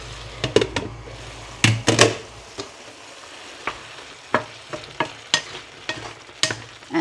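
Snow peas being stir-fried in a pan, with a steady sizzle and repeated scraping, clattering stirs at an uneven rhythm, close and fairly loud with no voices.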